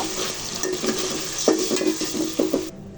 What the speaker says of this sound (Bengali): কাঁচা মশলাটা ভালো করে ভেজে নিয়েছি